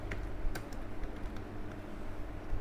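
Keys tap on a computer keyboard while typing into Windows Notepad, soft irregular clicks at a quiet level over a faint background hum.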